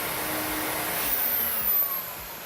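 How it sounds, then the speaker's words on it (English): A vacuum nozzle pulls excess carbon from a carbon filter during manufacturing, a loud, steady whooshing suction roar with a slight rising whine, continuous from start to end. "Any excess carbon is vacuumed from the filter."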